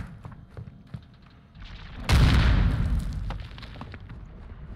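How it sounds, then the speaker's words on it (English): A grenade explodes in Warzone 2.0 DMZ, a sudden loud low boom that rolls on for about a second before fading, with scattered distant gunfire and clatter around it. "Grenade!"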